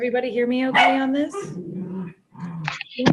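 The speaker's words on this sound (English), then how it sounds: "you might hear the wrestling of the dogs going on behind me" Dogs wrestle and bark behind a person speaking, with several close yips and barks and whimpering mixed over the talk.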